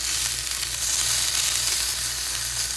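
Onions and bell pepper char in a hot pan for tamale filling, giving a steady, close, dense sizzle and hiss with a low hum underneath that holds for the whole stretch, with no voices.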